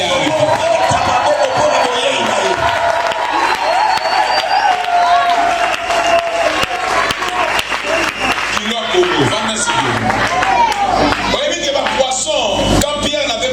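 A church congregation at an anniversary service applauds and cheers loudly, with clapping, whoops and shouted voices over a sustained musical tone, energetic and continuous throughout.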